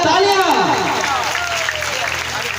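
A crowd claps steadily and loudly at a Shrimad Bhagavat Katha religious storytelling event, with a voice and music carrying over the applause throughout.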